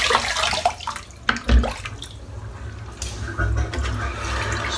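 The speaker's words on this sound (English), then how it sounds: "Splash of cold water now." Cold water runs from a tap and is splashed up by hand during a wet shave with a Rockwell 6C razor, giving broad wet gushes and spatters that swell and fade, loud and close, with brief bursts of speech.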